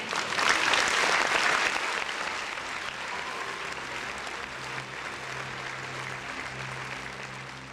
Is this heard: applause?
yes